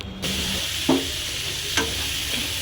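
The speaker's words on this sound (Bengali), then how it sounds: "এভাবে কষাতে হয় তাহলে পটলের কাঁচা গন্ধটা চলে যায়" Pointed gourd sautéing in a pan, a steady oily sizzle with three distinct scrape-and-clatter stirring strokes spaced about a second apart, close and without speech.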